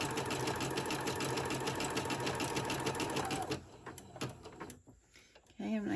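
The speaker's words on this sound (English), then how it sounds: "The nice thing about having a down feature on your machine is you can stop and your needle is down there where it needs to be" A domestic sewing machine runs in a fast, steady stitching whir, stops briefly, then restarts near the end, part of stuffed gingerbread craft sewing.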